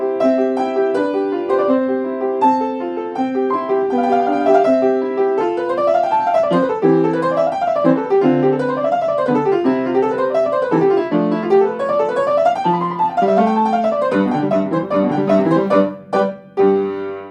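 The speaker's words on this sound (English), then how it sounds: "Sorry about my untuned piano" An untuned piano plays a well-known melody in clear, steady notes with rising and falling phrases, close and fairly loud, ending with a few final chords and no talking.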